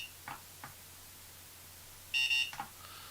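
Short electronic beep tone from a small buzzer on a DIY home-automation board, a brief flat tone of about half a second, faint and close, with light handling clicks around it and no voices.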